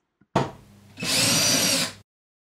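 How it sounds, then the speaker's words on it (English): Power drill boring into a wood header to mount a barn door track for a closet: a brief rough bite, then a loud steady high whine running about a second, close up with no talk. "Drill the wood headboard to install our tracks."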